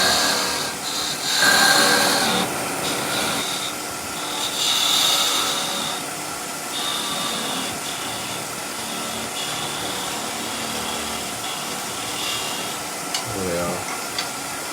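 Wood lathe spinning a simple wooden ball while a skew chisel parts it off, giving a steady whirring scrape with brief rising cuts and a sharper bite near the end, heard up close throughout.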